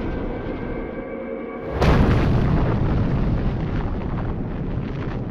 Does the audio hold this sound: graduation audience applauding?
no